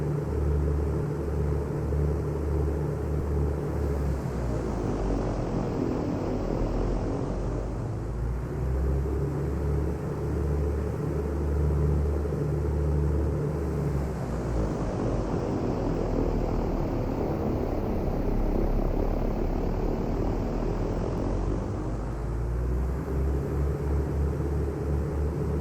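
Propeller aircraft engine in Microsoft Flight Simulator 2024 during a prop cycle check, a steady loud droning rumble with the pitch dipping and swelling twice as the props cycle, no talk.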